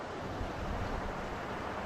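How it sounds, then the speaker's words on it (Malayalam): Rainwater gushing with force out of a DrainOMaxx modular trench drain outlet in a paved yard, a steady dense rushing wash that continues without a break throughout. "എത്ര ഫോഴ്സിലാണ് വെള്ളം വരുന്നത് എന്നുള്ളത് നോക്കൂ"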